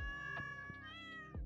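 Cats in Stardew Valley give a clear, close meow with a rising then falling pitch, set over soft, tinkly game music with light percussive taps.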